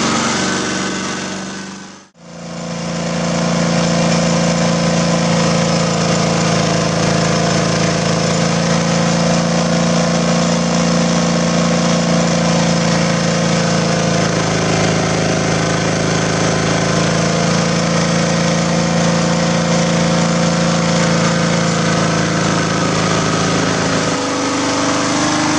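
A small charcoal gas-powered engine idles steadily and loudly after a brief stop, its rough, even drone running for a long stretch with little change.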